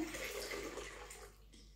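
Almond milk is poured into a container, making a short, fairly faint liquid splash and gurgle that fades out within about two seconds, with no talking.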